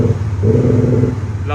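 An Audi S4 saloon's 3.0 V6 TDI turbo diesel engine gives a short, loud, close rev that swells and then drops back over about a second and a half.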